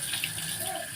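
Tap water gushes steadily in a bathroom while clothes are hand-washed, a close, continuous splashing flow with no talk.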